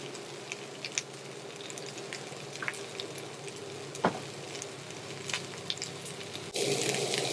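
Peppers and onions sizzle in sausage oil in a pan, a steady low frying crackle with scattered pops, gently stirred, growing a bit louder near the end.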